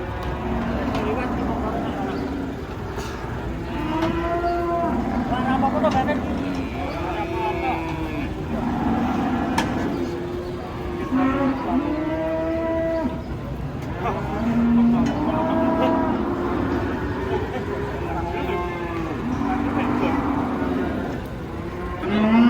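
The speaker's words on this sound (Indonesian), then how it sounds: "Sapi kurus guys. Datang ini." Thin cattle bellow and moo repeatedly while being unloaded from a truck, the calls rising over a steady rumble of engine and crowd noise, with people talking throughout.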